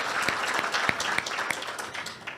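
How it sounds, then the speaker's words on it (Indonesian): An audience at an Indonesian ministerial handover ceremony applauds for Pak Budi Ari, a moderate spread of clapping with a few sharper individual claps standing out over about two seconds. "Kita beri tepuk tangan Pak Budi Ari"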